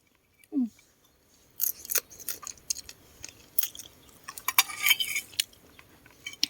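Crisp scissor snips and clicks in irregular bursts, close by, with faint crunching of food being cut and a brief soft tap near the start.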